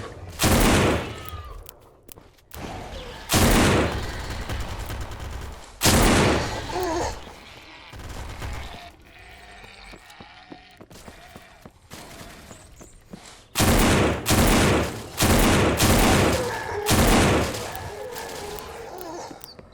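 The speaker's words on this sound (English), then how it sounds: "It's just launching those things like mortars." A weapon in the video game Those Who Remain launching projectiles like mortars: repeated heavy booming bursts in clusters with pauses of rumbling ambience between, loud and close.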